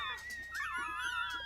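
A dog whimpering in a barn, high wavering whines and yips rising and falling in a quick run of cries, near and fairly clear over a low background.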